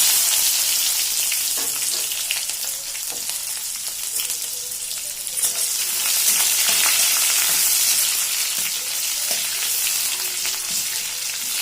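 Chopped onion hits hot oil with whole garam masala, bay leaf, dried red chilli and cumin, giving a loud, continuous sizzle with faint stirring scrapes throughout.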